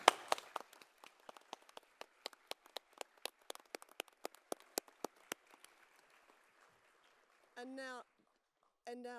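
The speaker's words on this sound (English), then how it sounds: "please applaud those of faculty and support staff on the stage" Scattered clapping from a graduation ceremony crowd honoring faculty and support staff, sparse distinct claps fading out over several seconds, followed by a short spoken phrase.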